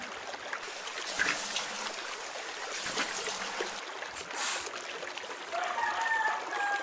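A stream trickles and splashes in a soft, continuous outdoor wash of water, faint and uneven, with a few brief bird-like chirps near the end.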